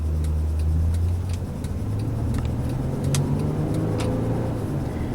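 A 2012 Honda Pilot EX-L pulling away under throttle, a low, steady engine drone rising gently in pitch from inside the cabin, with faint ticking over it.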